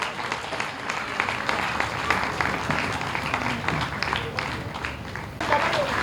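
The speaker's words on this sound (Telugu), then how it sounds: "గట్టిగా చప్పట్లు కొట్టాలి." An audience at an honoring ceremony claps loudly and continuously, a dense crowd of hands with voices mixed in throughout.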